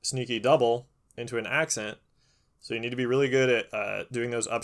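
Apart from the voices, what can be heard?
No everyday noise stands out behind the speech.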